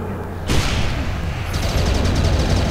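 Enemy gunfire in the video game Final Doom: TNT, a loud dense burst of repeated shots and booms kicking in suddenly and continuing steadily to the end, with no talking.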